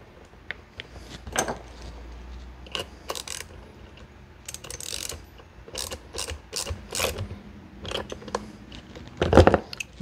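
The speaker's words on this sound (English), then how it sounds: "you're gonna need your half inch socket as well as your adjustable wrench to hold it. So I'm gonna go ahead and get this tightened down" A half-inch socket and an adjustable wrench tighten down a locking nut on a custom 4-inch intake for an Audi 3.0T B8 S4 and C7 A6, giving close, irregular ratcheting clicks and metallic clacks in short bursts.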